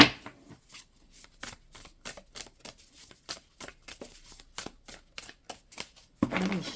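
Playing cards riffled and shuffled in a rapid series of crisp, close flutters and snaps, about twenty quick bursts in an uneven rhythm, ending in a denser rustle.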